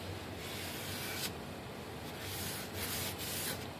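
A cloth wipes kicker glue off a foam float of an E-flite J-3 Cub UMX model plane, giving a faint, steady rubbing hiss with a few slightly stronger swipes.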